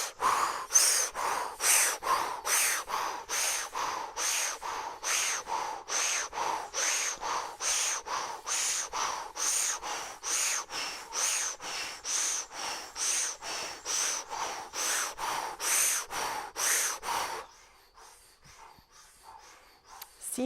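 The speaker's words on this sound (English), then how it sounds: "do the same Breath of Fire through O mouth" Breath of Fire done through an O-shaped mouth, with rapid, rhythmic puffs of breath, roughly two per second, steady and close for about seventeen seconds before trailing off into quiet breathing.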